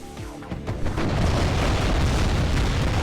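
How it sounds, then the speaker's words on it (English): Battlefield combat in the Cold War strategy game WARNO, with dense overlapping gunfire and deep booming explosions building into a continuous loud rumble of distant and near shots around a wooded infantry area. "As you can see, we got a lot of shooting going on."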